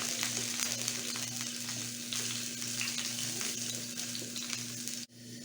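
A homemade hamburger patty fries under a cover while cheese melts on top, giving a steady, close sizzle that cuts off abruptly near the end.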